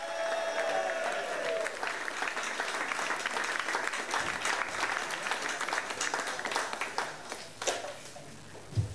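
An audience cheers and applauds as a stand-up comedian is welcomed to the stage, dense clapping and crowd noise filling the room, thinning into scattered claps near the end.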